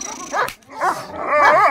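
A young dog, a puppy being trained, gives a few sharp, yipping barks at close range, with a short pause between them.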